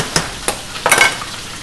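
Burger patties frying in a pan for a bacon cheeseburger, a soft steady sizzle broken by a few sharp clicks and scrapes of a utensil.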